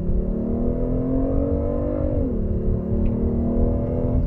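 A 2021 Kia K9 large sedan with a 3.3 gasoline turbo engine accelerates in sport mode, its engine tone climbing steadily, dipping briefly at a shift, then rising again as a loud, continuous in-cabin drone.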